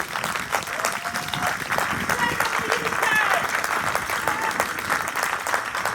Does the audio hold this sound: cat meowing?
no